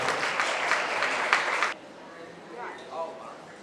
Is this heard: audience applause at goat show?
yes